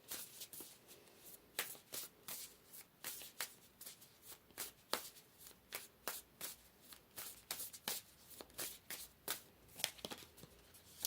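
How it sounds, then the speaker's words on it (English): Tarot cards are shuffled and pulled, a quick run of crisp riffling flicks and slaps repeating steadily, close and soft, with no voices. "So let's pull some more cards here."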